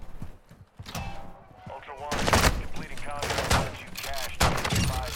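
Gunfire in the video game DMZ, set in Al Mazrah: a rapid fusillade of loud shots and bursts through most of the clip, with a quieter stretch of movement and handling noise at the start.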